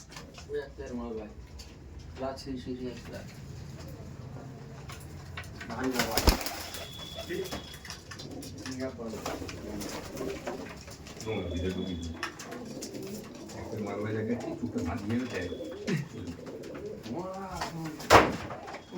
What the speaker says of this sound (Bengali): এই পায়রাগুলো দেখো, এগুলো হচ্ছে তোমার পাট্টা পায়রা